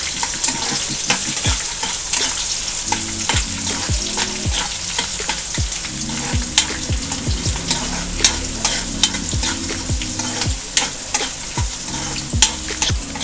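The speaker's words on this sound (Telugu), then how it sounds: "ఎండుమిర్చి బాగా వేగాల." Dried red chillies fry in hot oil in a pan for Telugu-style mango pulihora, a steady crackling sizzle broken by frequent scraping stirs of a metal spoon against the pan.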